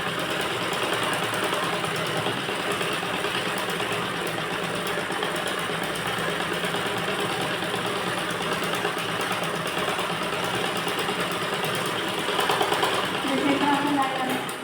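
A sewing machine runs a seam on a princess-cut blouse, giving a steady continuous mechanical hum and whirr that holds throughout, close by and fairly loud, with talking over it.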